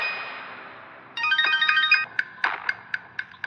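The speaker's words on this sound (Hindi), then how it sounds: "और फिर उसके मोबाइल पर विक्रम का फोन आया।" A mobile phone ringtone for an incoming call plays a bright, rapid electronic melody, then a series of evenly spaced chiming notes, fairly close and with nothing else over it.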